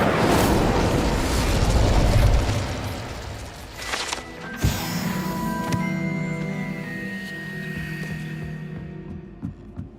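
An Incendio fire spell cast in Hogwarts Legacy bursts out as a loud roaring whoosh that fades into a crackling tail, then a second sharper impact flares up before the sound dies away.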